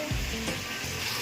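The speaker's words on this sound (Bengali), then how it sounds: "ভাজা চলছে" Vegetable slices coated in salt and turmeric fry in hot oil, a dense, continuous close-up sizzle with no talk over it.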